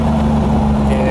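A convertible Ferrari Testarossa kit-car conversion idles with a steady low engine rumble, loud and close, holding evenly for about a second.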